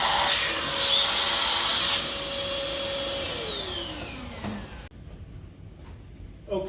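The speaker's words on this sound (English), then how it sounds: "this is the PCL704 18 volt hand vac from Ryobi" A Ryobi PCL704 18V cordless hand vacuum whines loudly and steadily, then its pitch glides downward as the motor spins down and cuts off, leaving faint handling noises.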